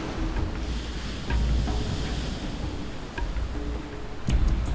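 Ocean waves break and surge onto a shore where fur seals launch into the surf, a continuous rumbling wash with several louder swells and gusty wind noise across the microphone.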